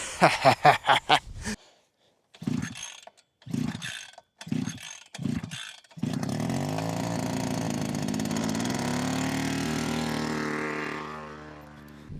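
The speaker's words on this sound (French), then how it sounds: "Le moteur thermique." A small engine starts up after several short bursts of pulling and sputtering, then settles into a steady, loud running drone that continues alone.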